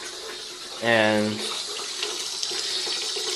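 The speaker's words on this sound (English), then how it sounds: "you don't want to fill your water all the way up because then it'll overflow" A tap runs into a tub being filled to hand-wash BDU uniforms, a steady close rush of water with a brief voice breaking in about a second in.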